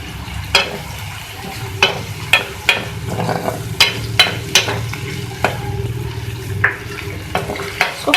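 Chopped onion and green chili frying in oil in a karahi, with a steady sizzle broken by repeated sharp clinks and scrapes of a spoon stirring against the pan, close and moderately loud.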